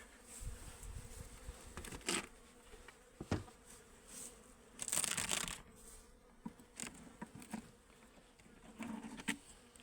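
Bees buzz close by, a busy droning hum with scratchy rustles and knocks throughout.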